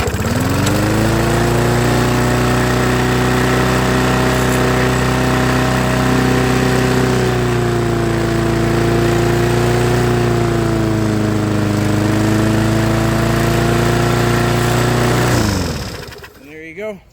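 An old Murray lawnmower engine fires up and runs steadily at a loud, close, even drone for about fifteen seconds, then cuts out abruptly near the end.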